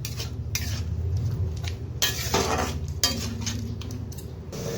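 Spice masala of sugar, turmeric and Kashmiri chilli powder being stirred and fried in a pan for potato-papad dalna, with repeated scraping and clinking of a metal spatula over a low, steady sizzle.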